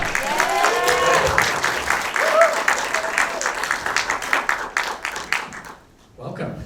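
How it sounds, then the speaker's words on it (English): Film-screening audience in Surrey applauding before a Q&A with a director, a loud, dense wash of clapping with cheering voices mixed in, fading out near the end before a brief sound returns. "Big round of applause, come on."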